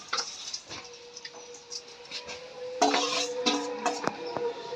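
Fish head and potato curry being stirred in a pot, with intermittent spoon scrapes and metallic clinks against the pan over a faint simmer, growing busier and louder in the second half.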